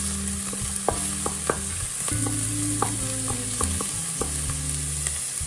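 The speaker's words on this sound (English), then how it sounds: "Now it's frying" Mushrooms, onion and small-cut potatoes frying in a pan, a steady close sizzle broken by repeated clinks and scrapes of stirring, with no talking.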